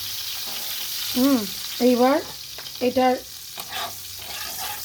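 Prawns fry and sizzle in oil in a pan, a steady broadband hiss running throughout while someone speaks briefly over it.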